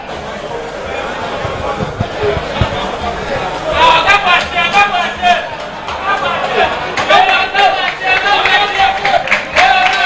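Fans in a stadium at an Asante Kotoko versus Aduana Stars football match applaud a player, with rising clapping and cheers over a babble of crowd chatter, spread across the stands.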